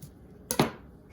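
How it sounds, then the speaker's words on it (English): A knife slices the ends off a red onion on a cutting board, giving two quick, crisp chopping knocks close together in a quiet room. "I actually like to cut the corners, the ends of the onion first."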